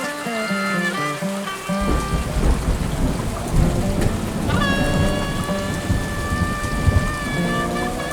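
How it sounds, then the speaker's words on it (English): Steady heavy rain pours down with rolling thunder rumbling through, while sustained musical tones play over the storm. "It rained all day long yesterday. Thunderstorms off and on."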